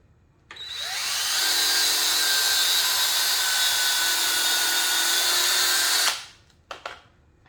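A power drill bores a hole into wood in a DIY project: one sustained high whine lasting several seconds, close and loud, then it stops, followed by a couple of brief clicks.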